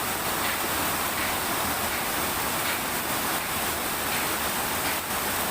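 An abundant forest stream in Lombok flows with a loud, continuous rushing hiss that stays steady throughout, with no talking.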